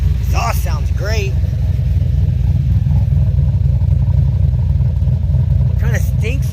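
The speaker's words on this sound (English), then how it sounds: "Exhaust sounds great." A 2007 Pontiac Grand Prix GXP sits at a steady idle after a radiator replacement, its exhaust giving a low, constant rumble close by. Someone talks over it at the start and again near the end.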